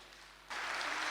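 Audience clapping for a speaker at a Hindi spiritual gathering bursts in abruptly halfway through, after a quiet moment, and carries on as dense, steady applause.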